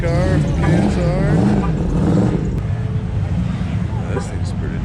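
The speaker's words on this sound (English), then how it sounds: "Kevin's drag car from KSR" A drag car at LS Fest passes with a loud, rough engine roar that is steady and fills the air, then gradually fades, with some wind noise across it.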